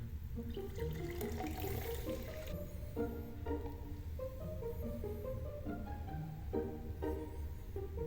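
Soda water pours into a frothy egg-white cocktail in a soft, continuous stream with faint fizzing and gurgles, heard fairly quietly and without talk.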